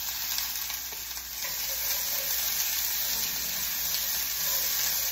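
Beans for pupusas sizzle and fry in a hot pan, a steady, fairly loud broadband hiss that holds for the whole stretch with no voices over it.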